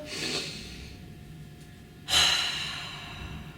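A runner breathes close to the mic, with a soft airy breath at first and then a sharp, louder intake that tails off into a sustained rush of air.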